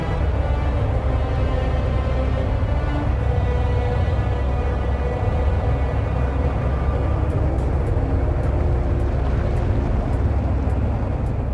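Ship engines come up to speed in Homeworld: Deserts of Kharak as a steady, loud, deep drone with a humming tonal whine layered over the rumble. It goes on continuously with no speech.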